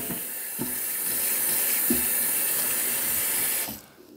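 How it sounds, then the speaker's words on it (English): Raw fish rinsed under a running kitchen tap, a steady close hiss of water splashing in the sink with a few dull knocks, cutting off near the end. "Then you give it a rinse. Good old fashioned rinse."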